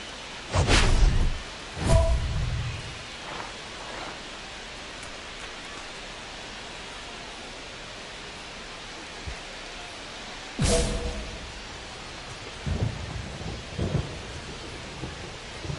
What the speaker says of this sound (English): It really feels like we might be running out of time before a rain delay is called. This rain is not letting up.